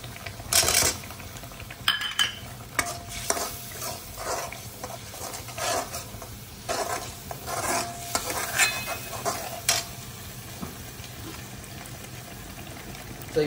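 Spices sizzle in hot oil for a kaju paneer gravy while a spoon stirs and scrapes the pan, with intermittent clinks and bursts of frying over a low background hum.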